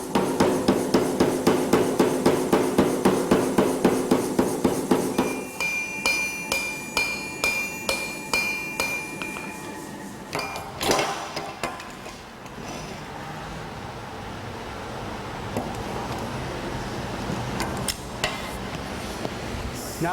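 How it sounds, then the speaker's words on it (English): Hammer blows on metal bar ends to spread them while blacksmithing parts for a garden gate, a steady rapid series of sharp ringing strikes for the first five seconds, then slower, scattered taps and clanks with workshop noise. "I'm going to hammer them to spread the ends"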